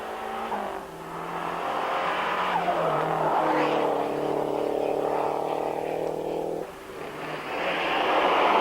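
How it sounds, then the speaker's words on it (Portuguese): A Renault 11 Turbo Group N rally car on a 1990 Portugal rally stage revs hard, its engine note rising and falling through gear changes with tire noise, loud and close, briefly dipping before pulling away again. "Manuel Rolo, sempre com o seu Renault 11 Turbo do grupo de produção, era 14º lugar da geral e 9º do grupo."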